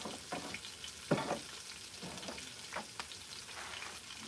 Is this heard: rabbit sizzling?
yes